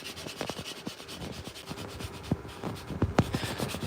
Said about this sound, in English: give a light shaving right here, sanding.